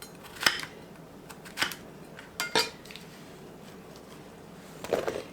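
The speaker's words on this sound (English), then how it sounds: "So I'm just going to take it and cut it just in pieces," Knife cutting squash into pieces on a board, a few sharp chopping taps spaced apart over a quiet kitchen background.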